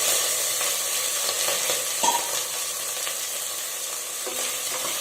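Brinjal pieces stir-frying in a pan for brinjal pulao, a steady hiss of oil with occasional scrapes and taps of a ladle, close and moderate in volume, no talk.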